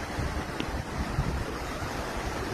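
River water flows in a continuous, rushing wash with soft low gusts, close and moderately loud, with no talking.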